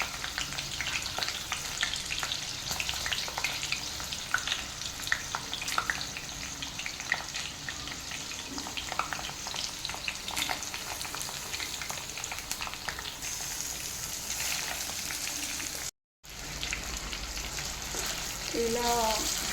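Stuffed baby eggplants fry in hot oil in a wide pot for dum biryani, giving a steady, close crackling sizzle throughout with occasional soft stirring.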